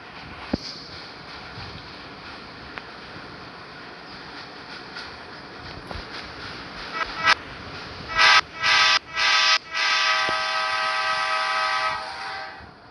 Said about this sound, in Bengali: এখন ভাই আমি কিন্তু এখন ট্রেন চালু হয়ে গেছি।